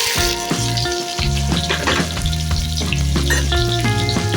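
Pumpkin pieces frying in oil with panch phoron spices make a steady close sizzle with occasional stirring scrapes, running beneath prominent melodic background music.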